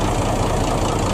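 A front-engine bus on an old Hino chassis and engine idles close by, its rumbling, growling exhaust holding a steady low drone throughout, with no talk over it.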